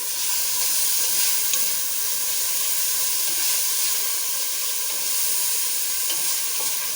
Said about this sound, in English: I'll add the tomatoes now.